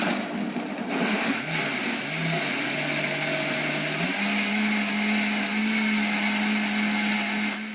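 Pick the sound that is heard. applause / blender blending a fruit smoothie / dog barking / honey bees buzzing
blender blending a fruit smoothie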